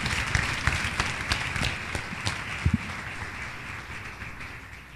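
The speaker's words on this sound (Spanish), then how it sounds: "Denle un aplauso al Rey de la Gloria." A church congregation applauds through a sermon break, steady dense clapping with a few sharper claps and faint cheers, moderately loud and filling the hall, no talk over it.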